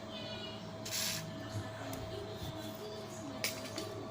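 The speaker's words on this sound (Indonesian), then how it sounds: "Kita semprot pakai WD" WD lubricant sprayed from an aerosol can onto rusty air rifle parts gives two short hissing bursts over a steady background hum, close and moderately loud.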